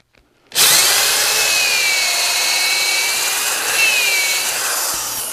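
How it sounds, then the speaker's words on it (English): A power drill bores a hole all the way through a wooden birdhouse panel, a sudden close whine that holds steady and bright for about five seconds with a slight wavering pitch before easing off. "We'll drill a hole"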